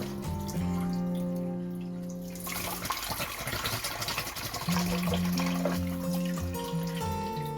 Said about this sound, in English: And then just keep filling the tin up and rinsing it out.